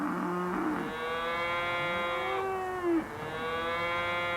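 Cattle on a Swiss mountainside give a couple of long, drawn-out moos, one rising and falling, heard fairly close with no one talking.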